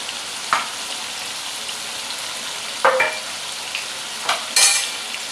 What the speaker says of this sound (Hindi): यखनी हमने डाल दी है।